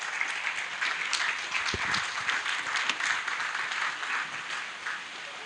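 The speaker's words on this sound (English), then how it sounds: "a round of applause for the brain behind the conference" Audience applause in a conference hall at the Laudato Si Africa Conference, a steady wash of many hands clapping that carries on through the whole stretch at moderate distance.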